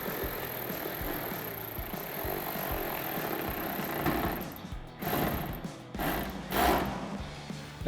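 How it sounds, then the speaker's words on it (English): Ratcheting a 10mm socket to tighten fender flare bolts on a 2009-2014 Ford F-150, a quiet steady clicking with a few louder bursts near the end and no talk. "we'll tighten them up with our 10mm socket"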